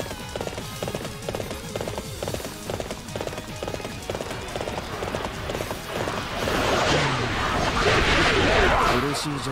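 Horse hooves clatter in fast repeated beats during a samurai's mounted special attack in the video game Warriors Orochi 3, layered with game music and effects that build into a louder, denser crash of combat noise near the end.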